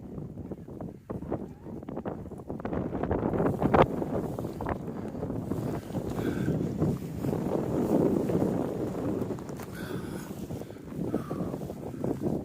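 Gusty wind on a hilltop roars and buffets the microphone in uneven surges, loud and close, rising and falling over several seconds.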